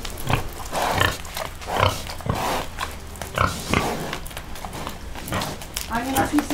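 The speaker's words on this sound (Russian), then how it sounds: "Вот это свинка." A large pig or boar in a Belarusian village grunts repeatedly in short low bursts, close by, mixed with footsteps and people talking throughout.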